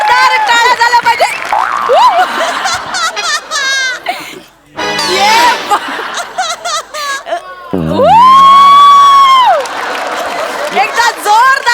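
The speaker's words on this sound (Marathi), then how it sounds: "एकदा जोरदार टाळ्या झाल्या पाहिजे" Studio audience at a Marathi comedy show (Maharashtrachi HasyaJatra) clapping and cheering in a loud sustained burst over stage music, with a host's voice and shouts rising above the crowd noise.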